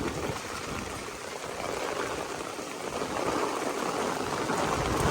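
Pounding rain from a rainstorm roars steadily and loudly, a dense, unbroken wash of water with no voices.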